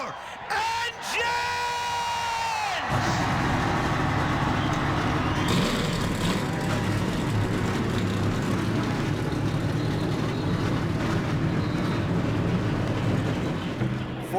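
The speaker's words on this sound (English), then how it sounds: "42 engines come to life here at the Hillside International Speedway" A field of 42 stock cars firing up at once in NASCAR Racing 2003 on a fictional speedway, rising into a thick, sustained roar of engines after a brief gap, loud and continuous to the end.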